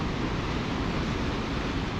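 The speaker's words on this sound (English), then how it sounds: "Listen to the noise that the water makes on the pebbles." Storm-driven sea surf breaking and washing over a pebble shore in Scotland, a steady loud roar of rushing water with gusty wind noise, no voices.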